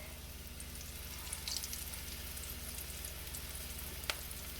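Onion rings fry in hot oil at just under 350 degrees, giving a steady, close, even sizzle and crackle throughout with a few brighter pops, and no voices.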